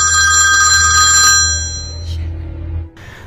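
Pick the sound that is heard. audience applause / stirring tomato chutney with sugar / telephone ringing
telephone ringing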